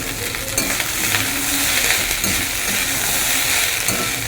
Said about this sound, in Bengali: এই সকালবেলা করে নিচ্ছি ভাজা ভাত